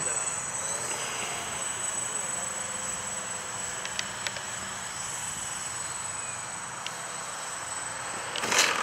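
A Diamond Katana light airplane comes in to land, its engine a steady distant drone under constant insect-like high whine, with a few faint clicks and a brief louder rush near the end.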